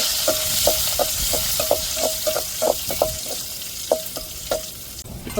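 Onions frying in oil with mustard seeds and curry leaves, a steady hiss punctuated by a rapid series of short, regular tapping clicks, likely seeds popping or a spoon striking the pan, with no one speaking.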